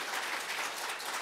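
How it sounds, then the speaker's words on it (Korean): A church congregation gives a short round of dense applause during a service, steady clapping from many people with no talk over it. "박수로서 한번 우리 격려하겠습니다."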